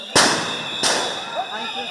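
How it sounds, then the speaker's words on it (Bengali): Police sound grenades go off at a protest march on a university campus: two sharp, loud bangs about two-thirds of a second apart, each leaving a decaying ring, followed by faint crowd voices and whistles in the background. "মিছিলে সাউন্ড গ্রেনেড ও কাঁদানে গ্যাসের শেল নিক্ষেপ করে পুলিশ।"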